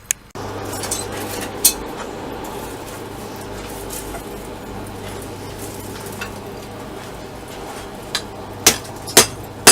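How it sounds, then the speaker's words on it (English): Metal strikes ring out at a forge as a railroad spike is hammered in an attempt to forge weld it into a chef's knife, a few sharp isolated blows over a steady hissing roar. "we're going to get to trying to weld this together"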